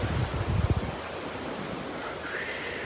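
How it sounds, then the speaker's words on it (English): Ocean surf washes ashore at sunset, a broad rushing roar with a louder wave break early on, then a steady hiss mixed with wind buffeting the microphone. "Look at this ocean."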